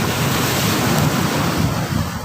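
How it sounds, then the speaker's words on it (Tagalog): Large waves crash against big rocks along the shore, a loud, continuous roar of surf churning against the boulders, mixed with buffeting wind noise on the microphone. "Ang lalaki na po ng alon, lalaki pa ng bato."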